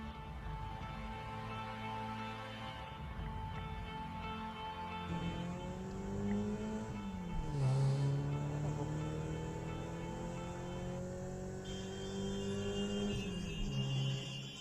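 A car engine rises from idle and revs as the vehicle pulls away, its pitch climbing and dipping through gear changes in a steady, fairly close drone with no talk.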